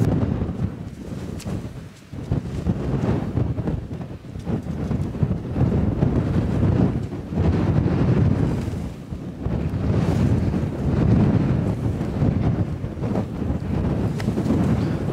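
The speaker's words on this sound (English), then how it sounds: "This wind's a bit of a nightmare" Strong wind roars across a wild camping spot in the Northumberland countryside, buffeting the microphone in a continuous, gusting rush that swells and dips without a break and with no talk.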